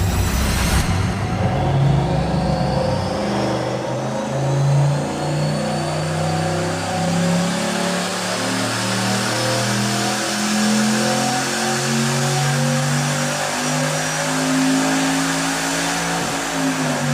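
A high-performance engine runs a full pull on a dyno in a test cell, climbing through a long sustained rev to about 6,600 RPM, loud and close, with rising engine tones and no voices.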